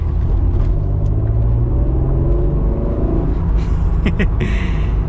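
A first-generation Acura NSX engine blipped during a rev-matched downshift, a loud close interior rumble that swells and falls with the throttle blips, with faint voice-like murmur underneath.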